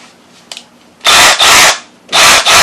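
A Milwaukee M12 FUEL rotary hammer drill runs in two short pairs of loud, close bursts, each a harsh buzzing whir cutting off abruptly, with a faint click before the first.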